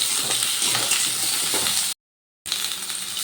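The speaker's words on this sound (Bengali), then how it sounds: "এবার ওই তেলের মধ্যে দিয়ে দিচ্ছি আলু, এই যে এরকম লম্বা করে কেটে রাখা আলু। আর আলুগুলো একটু ভালো করে ভেজে নেব।" Long-cut potato slices fry in hot mustard oil with a loud, steady, close sizzle that breaks off into a brief silent gap before resuming.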